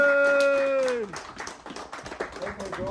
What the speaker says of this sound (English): Applause for today.